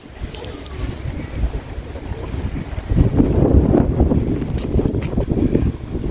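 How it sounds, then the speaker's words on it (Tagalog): Strong wind buffets the microphone throughout, a low rumbling roar that swells louder midway, with a faint watery wash beneath and no talking. "it's so windy"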